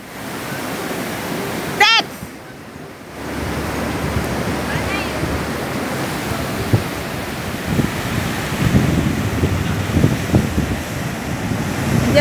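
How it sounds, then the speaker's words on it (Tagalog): Ocean waves break on the shore at Sliema beach in Malta, a loud, continuous rushing wash of surf with wind noise. People talk and exclaim over it. "Diyan na naman, malakas na naman yung alon."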